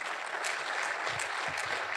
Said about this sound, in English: take a round of applause for our panel